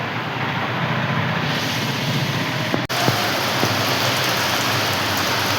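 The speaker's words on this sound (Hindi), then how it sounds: "अभी बारिश जो है वो हो ही रही है" Steady rain hisses down continuously on a surface nearby, with a brief sharp click partway through.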